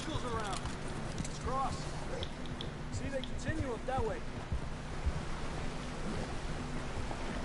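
Horse hooves clip-clop in the video game Red Dead Redemption 2, a steady rhythm of soft thuds running under game sounds and low background hum, with speech-like chatter heard intermittently.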